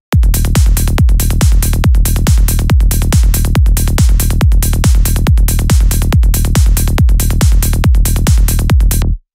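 A heavily processed psytrance synth bassline pulses in a fast, steady run of punchy, loud notes that go on without a break, then stops abruptly.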